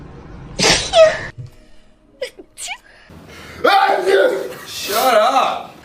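A person sneezes sharply twice, with gasps and brief laughter between, close and loud, mixed with voices.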